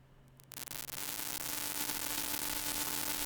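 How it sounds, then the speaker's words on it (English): White noise is added to a bit-crushed sine signal in Nuendo: after a half-second of faint tone and hum, a loud broadband hiss floods in and holds steady, with the sine tone still audible beneath. "But then let's bring in some white noise."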